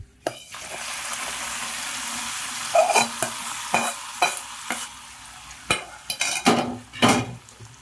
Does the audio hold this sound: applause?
no